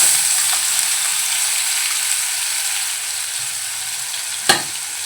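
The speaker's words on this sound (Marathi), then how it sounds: "कढईमध्ये आपण 1 चमचा तेल गरम करून घेतले, त्यामध्ये आपण जे पेस्ट करून घेतले कांद्याची ती घालून घेऊया" Onion paste sizzles in about a spoonful of hot oil in a wok, a loud, steady frying hiss with a brief clatter of stirring near the end.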